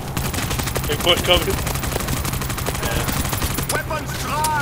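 Rapid, dense gunfire crackles in the zombie shooter World War Z: a steady stream of sharp close shots with brief voice fragments in the mix.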